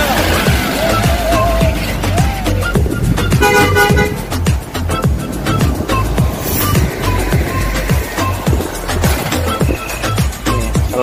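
An intercity bus rolls past and sounds its horn several times, with loud tooting over busy road traffic and steady engine noise close by.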